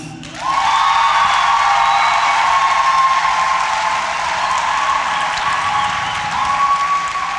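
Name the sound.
cinema audience applause and cheering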